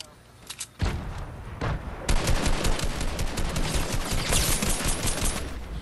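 Rapid video game gunfire crackles in dense, continuous bursts after a brief quieter lead-in, loud and close, with a voice talking intermittently beneath the shooting.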